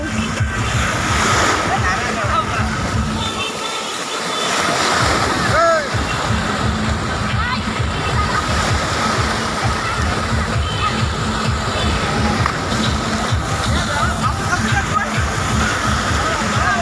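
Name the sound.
artificial waves in a wave pool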